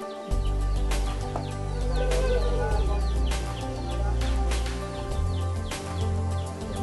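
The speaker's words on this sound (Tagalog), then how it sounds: "Ayun o, tumutunog na po yung pabo." A turkey gobbles amid a farmyard flock of chickens, ducks and geese, giving loud, continuous overlapping fowl calls and clucks close by.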